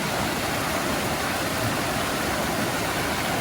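River water flows steadily past washed-down foundations near an abandoned ghost town in Coolidge, Montana, a dense, constant rushing with no pauses.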